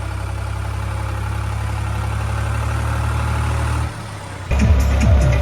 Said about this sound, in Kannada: ಟ್ರ್ಯಾಕ್ಟರ್ ಮೇಲೆ ವಿರಾಟ್ ಗೈಸ್.